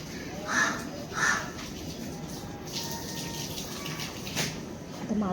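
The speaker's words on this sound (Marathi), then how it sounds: "परत हे बघा कावळे, बघा कावळ्यांना पण पाणी प्यायला पाहिजे असतं." Crows caw outdoors on a hot evening, with two loud, close caws early on, followed by fainter knocks and rustles over steady background noise.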